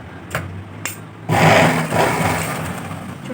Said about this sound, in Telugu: ఈ క్లాత్ ఇది కూడా కలిపి ఇలా ఒక స్టిచ్ అన్నది వేసుకోండి